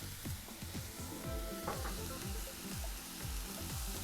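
Butter with Italian seasoning sizzles steadily in a pan, the close frying crackle joined by repeated scraping strokes of a utensil, with no talking.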